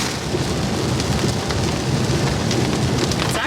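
A heavy rain shower pours down steadily in Orlando, a dense, loud, unbroken hiss of rain drumming on surfaces with a low rumble underneath, and no one speaking.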